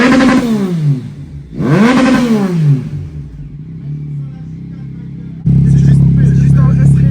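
A Yamaha Tracer 9 motorcycle with its exhaust baffle removed revs hard twice, each sharp rise and fall loud and close, then settles to idle before a louder burst of engine noise with voices nearby.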